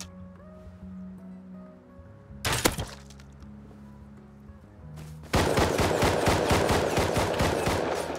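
Gunfire in the video game Rust: a short burst of shots, then after a pause a rapid, loud sustained volley of automatic fire, with a low ambient hum between bursts.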